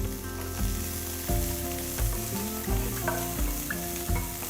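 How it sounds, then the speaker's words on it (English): Finely chopped onions with bay leaf, cinnamon, cardamom, cloves and mace sizzle steadily in a pan, with periodic stirring scrapes over a constant close hiss and no talking. "Saute the onions till they are nice and brown"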